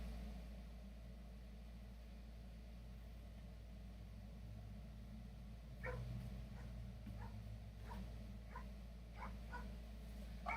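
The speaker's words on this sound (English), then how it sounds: "you'll hear two of my dogs going off right now" Two dogs bark and yip somewhere in the distance, faint and scattered over a steady low hum indoors.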